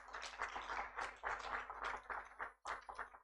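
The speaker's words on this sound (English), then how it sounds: "Clapping is also good" An audience claps at a launch event for a tree-saving mobile app, a fairly quiet, uneven patter of hands that swells and dips in bursts for a few seconds.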